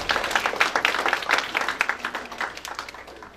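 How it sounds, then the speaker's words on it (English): An evening talent show audience at a Veterans Day event applauds, a dense steady patter of many hands clapping throughout, fairly loud and close, with no voices over it. "Please give yourselves a round of applause for showing up tonight."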